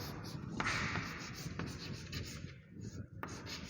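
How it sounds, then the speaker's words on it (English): A pen scratching across a writing surface in a classroom, soft continuous strokes with a few sharper taps, close and quiet, with faint speech-like murmur underneath. "I'll just write here"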